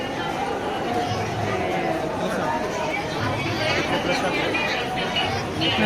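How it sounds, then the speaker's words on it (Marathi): Dense, steady crowd chatter fills a busy ISKCON temple on a Sunday, with many overlapping voices close by and no single voice standing out. "संडे असल्यामुळे गर्दी पण आहे"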